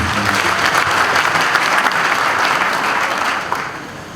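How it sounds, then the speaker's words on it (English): Loud, sustained applause from the audience at a passing out parade and commissioning ceremony for special duties cadets, honouring a rear admiral, thinning out near the end. "Another round of applause for Rear Admiral O.P."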